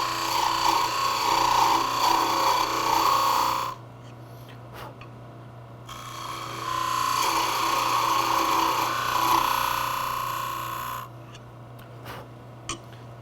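Wood lathe turning a tenon on a Christmas ornament: two bursts of close tool-on-wood cutting with a steady hiss, separated by a pause where only the motor hum remains, plus a few faint clicks.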